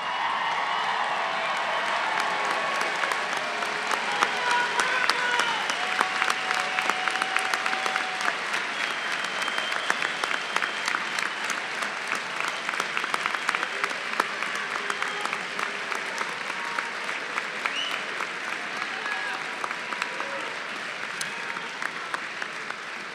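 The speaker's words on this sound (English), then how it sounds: "Give them one more standing ovation." A large commencement crowd gives graduates a sustained standing ovation at a UMBC winter undergraduate ceremony, dense steady applause with some cheering filling the hall for over twenty seconds without a break.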